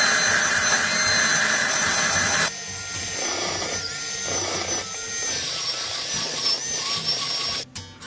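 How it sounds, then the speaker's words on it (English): Coarse sanding of an old machete blade being reshaped into a naval cutlass, a loud, steady power-tool whir with grinding abrasion that drops in level partway through, then cuts off sharply near the end. "Coarse sanding."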